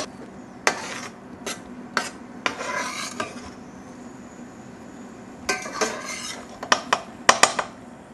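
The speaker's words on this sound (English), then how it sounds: "we're going to saute them up" Shallots and garlic sauteing in a pan, heard as scattered scraping and clinking of a utensil against the pan in short bursts with quiet gaps between, close and moderately loud, with no talking.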